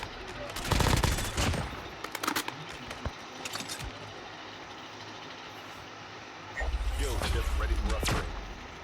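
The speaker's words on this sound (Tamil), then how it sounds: "மேலே ஃபயர் சவுண்டு இந்த டைரக்ஷனில்." Call of Duty Mobile gunfire comes in bursts of rapid shots, some bursts near and loud, others more distant, with a rumbling stretch near the end, as players talk over the action.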